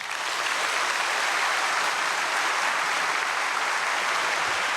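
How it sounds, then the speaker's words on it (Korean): A church congregation at a dawn prayer service gives sustained, even applause welcoming a pastor to speak, a full, steady wash of clapping without voices. "박수로 모시겠습니다."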